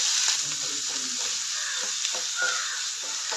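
Mustard seeds, toor dal and onion sautéing in hot oil, a continuous bright sizzle with soft stirring scrapes, close and steady, no talking.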